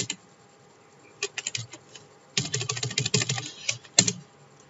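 Keys on a computer keyboard clatter close and crisp, starting as scattered single presses and then picking up into a rapid run of typing with short pauses between.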